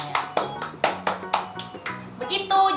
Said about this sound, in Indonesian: Itu juga bisa kayak kalau kita mau keringin tangan tuh kayak tepuk tangan itu nanti